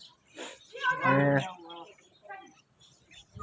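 Cow mooing on a farm, a single fairly close low moo in the open, with birds chirping faintly around it.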